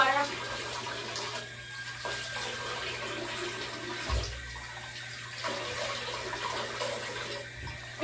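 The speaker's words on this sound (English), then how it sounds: "rinse with fresh water" Fresh water splashes and runs steadily in a bath during a rinse, with a couple of louder splashy bursts midway and near the end.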